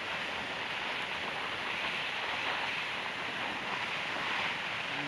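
Strong, gusting wind roars across an open plain at a motorcycle inspection station on the road toward Lake Tuz, a steady broadband rush buffeting the microphone throughout with no talk.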